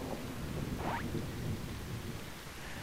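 Steady rain with a low rumble of thunder in a rain-soaked field of the video game .Hack//GU, a continuous broadband wash with a brief higher sweep near the one-second mark, no talking.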